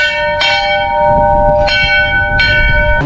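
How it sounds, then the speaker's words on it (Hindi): Temple bells at Bhumyal Dev temple in Mashi, Uttarakhand ring loud and close, three bright metallic strikes spaced about a second apart, each leaving a long shimmering hum. "घंटियाँ देख सकते हो कितने लगे हुए हैं"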